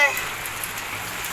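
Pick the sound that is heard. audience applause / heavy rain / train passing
heavy rain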